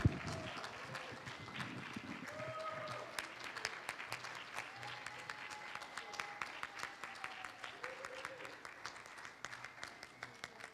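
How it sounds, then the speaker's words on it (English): Audience applause at an international conference gathering in Texas, steady and dense clapping across the whole stretch with scattered louder claps, heard from within the hall. "So please give an applause to the Lady of Liberty."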